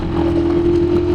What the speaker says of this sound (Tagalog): Parinig nyo ba yung tunog ng makina pag nag-aahon ng TMX?